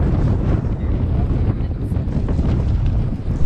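Strong gusting wind roars across the open slopes of Mount Agung, a steady loud buffeting rush that batters the microphone throughout with no pause.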